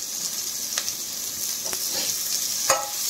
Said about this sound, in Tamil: இப்ப இதெல்லாம் சேர்த்து வதக்கிக்கலாம்.